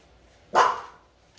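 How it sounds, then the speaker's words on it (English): A single sharp dog bark rings out once, brief and moderately loud against a quiet background, with no talk around it. "Ooh, doggy."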